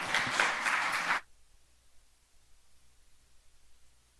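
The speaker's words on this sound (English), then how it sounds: "Ladies and gentlemen, big applause for Maria." Brief burst of audience applause at a stakeholders event, fairly quiet and lasting just over a second before cutting off abruptly into near silence.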